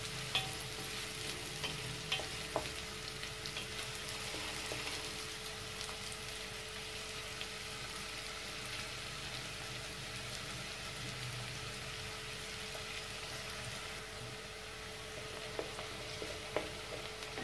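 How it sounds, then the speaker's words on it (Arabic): Onions being browned for Egyptian sayadieh rice sizzle continuously in a pan as they are stirred, a dense, even crackling hiss that carries on for the whole stretch. "هنقلب البصل حلو"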